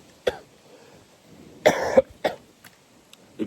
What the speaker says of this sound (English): I knew I was gonna let out a big old cough sooner or later.